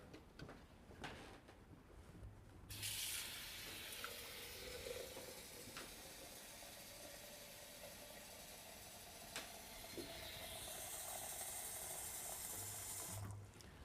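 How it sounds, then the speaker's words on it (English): Water poured from a pitcher into a soup pot holding white beans and green split peas, a steady broadband rush lasting about eleven seconds with a few knocks and clinks, close and moderately loud, no talking. "In this case, I added a quart of water into the soup with the beans"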